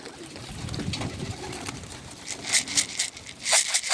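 Soft Birmingham Roller pigeon cooing and fluttery bird sounds nearby, with brighter rustling bursts toward the end; no talking.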